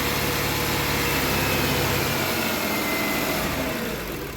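A Kia car engine with a fault that makes it lope, stall and rev erratically runs as a steady, loud, close roar that eases slightly near the end.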